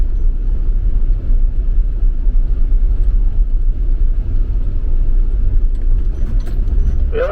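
A Jeep driving along a dirt trail through Tate's Hell in Apalachicola, heard from inside as a loud, steady low rumble of engine and tires, continuous throughout with a brief rattle near the end and no talking.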